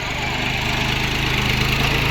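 A tractor engine runs on a farm field with a steady, continuous low rumble and even mechanical hum, close and fairly loud throughout.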